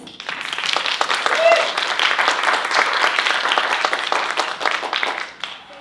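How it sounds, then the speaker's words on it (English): An audience bursts into sustained applause for a Korean music ensemble, dense clapping that holds steady for several seconds before tapering off at the end. "please give the Music of Korea Ensemble a round of applause"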